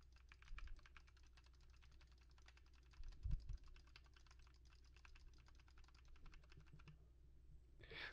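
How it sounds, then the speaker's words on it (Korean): Steady, rapid keyboard typing with scattered mouse clicks throughout, heard through an ASUS ROG Theta 7.1 headset microphone with AI noise cancelling on, fairly quiet and close, with a brief low thump partway through. "아까랑 같은 조건으로 키보드와 마우스를 눌러 보도록 하겠습니다"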